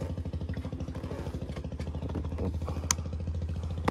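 A motorcycle engine idles close by with a steady, rapid low putter and regular pulsing beats, plus a couple of faint clicks.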